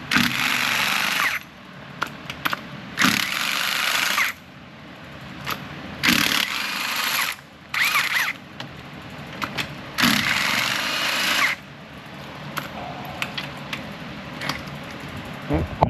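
Impact gun spinning bolts out of a Jeep Wrangler 3.6 cylinder head, loud close bursts of whirring rattle lasting one to two seconds, repeated several times with short pauses, and someone talking in the gaps.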